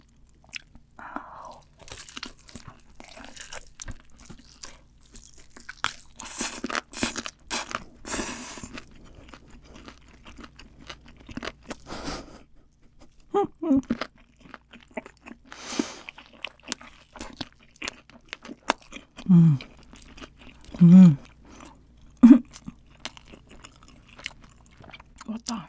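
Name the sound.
eating spicy fried chicken without cheese, crunching and chewing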